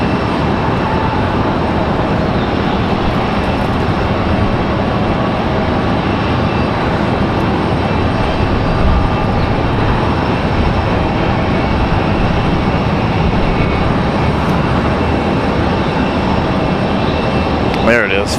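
An Aeromexico Embraer E190 comes in to land on runway 23 right at Raleigh-Durham, its engine noise a continuous broad rumble heard from some distance, steady from start to finish with faint voices underneath.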